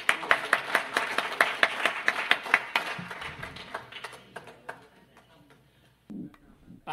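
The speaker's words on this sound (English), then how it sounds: "a round of applause for our next presenter, Mr. Tom Quinn, eFuels." A small audience applauds for the next presenter at an e-fuels talk. Crisp, regular claps sound close at first, then fade into scattered individual claps, and a voice begins near the end.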